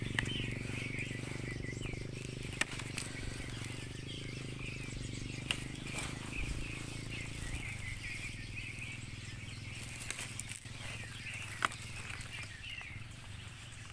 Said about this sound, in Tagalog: May ingay ng ibon dito ah.